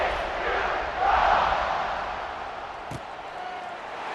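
A stadium crowd at a college football game, TCU Horned Frogs against Oklahoma State Cowboys, buzzes in a loud, steady roar just after a score. The roar swells briefly and then settles into a sustained distant murmur, with one short thump.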